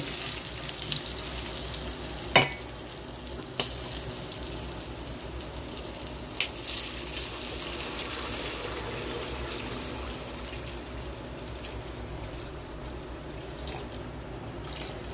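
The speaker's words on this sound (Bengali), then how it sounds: "এবার আমি এর মধ্যে জল দিয়ে দেবো" Water pours into a pan of fried potatoes and green bananas while a Bengali fish curry cooks. A steady, moderately loud hiss and splash runs throughout with a few sharper clinks, and no one speaks.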